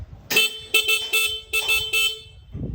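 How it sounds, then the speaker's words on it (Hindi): A car horn sounds a group's signature code pattern: a rhythmic series of short, loud, close toots in quick succession, then silence. "ये मंडली का कोड हॉर्न है"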